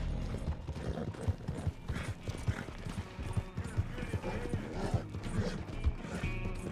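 Horse in Red Dead Redemption 2 galloping with a steady rhythmic clip-clop of hooves, close and continuous, with creaking tack and other game sounds mixed in.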